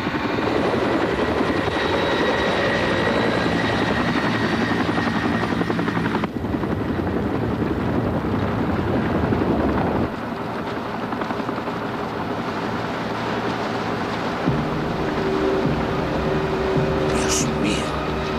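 A helicopter flies close overhead during a rescue transfer, its rotor and engine roaring loudly and continuously, the tone shifting a few times.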